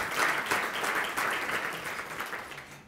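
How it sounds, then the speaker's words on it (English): Audience applause following a jazz ensemble's performance at a winter awards ceremony, steady dense clapping from a crowd sustained for about three seconds without a break. "Let's give them a round of applause."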